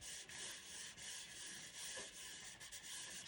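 Wooden pieces of a small handmade tool chest are rubbed together on a desk, giving a steady, close, dry scraping rasp that continues without pause.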